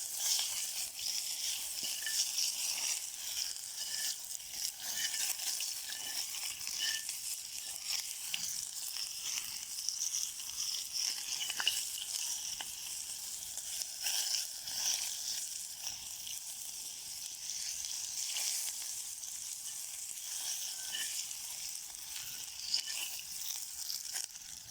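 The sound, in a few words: onion frying and sizzling in oil in a kazan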